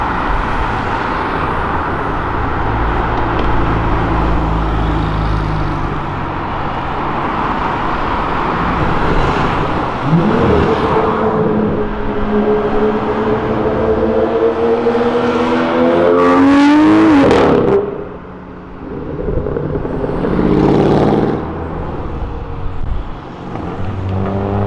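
Subaru car engines roar and rev loudly on Avenida Europa, several accelerating in turn, with rising and falling whines as cars pass close by amid steady traffic noise.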